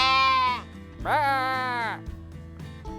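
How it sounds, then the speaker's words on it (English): Sheep bleat twice in a vineyard along the Vaca Mountains, with loud wavering cries heard close by and a steady low engine-like rumble beneath them. "Those are sheep over there."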